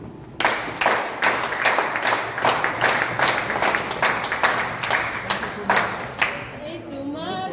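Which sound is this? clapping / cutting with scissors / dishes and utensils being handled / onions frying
clapping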